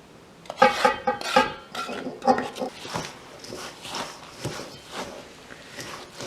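A sticky, sugary granola mixture being stirred quickly in a bowl, with close, irregular scraping and clinking of utensil against the bowl in rapid strokes, no talking.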